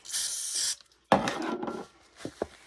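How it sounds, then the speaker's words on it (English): A short hissing burst of Lysol disinfectant spray, then a pause and a scrubbing wipe across a surface, followed by a couple of faint rubbing strokes. "I'm going to just spray a little Lysol on it so that you can see how this works"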